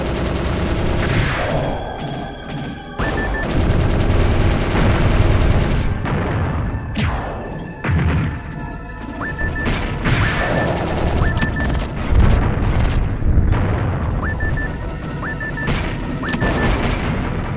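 Mech combat in the Sega Saturn game Gungriffon: continuous loud bursts of gunfire and booming explosions, with crashing impacts and electronic game tones layered throughout.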